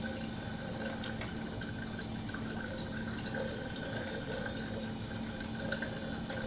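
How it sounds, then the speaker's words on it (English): Tap water running steadily into a sink as hands are washed with soap, a faint continuous hiss and splash with no talking. "wash your hands with soap and water"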